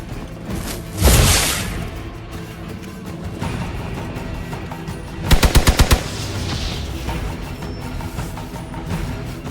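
Gunfire in the video game Marvel Midnight Suns: a heavy single blast with a whoosh, then a rapid burst of about six sharp shots, set over a steady game soundscape with no speech.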